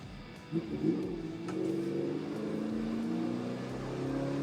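A four-door car with a 318 engine accelerates, its engine note rising into a steady, strong drone that holds close and continuous after a brief surge at the start.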